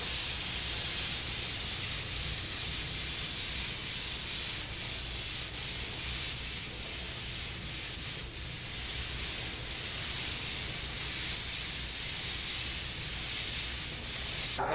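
A steady, continuous spray hiss of removable chrome paint being applied onto a vehicle, close and unbroken for the whole stretch.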